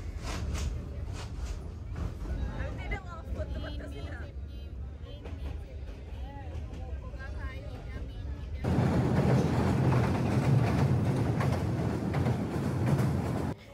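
A passenger train runs on its rails with a steady low rumble under people talking, then grows louder and denser in the second half as the noise of the wheels and carriages swells.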